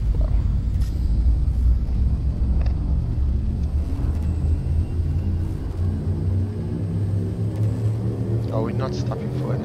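Deep, steady engine rumble of a frameship drive charging for a jump in a space video game, a loud continuous low drone with a rising tonal swell near the end.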